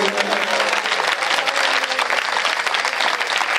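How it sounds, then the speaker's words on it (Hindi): A large audience at a Hindi comedy poetry show claps enthusiastically, a dense, loud, sustained wash of applause with crowd murmur beneath. "क्या तालियां दे रहे हो?"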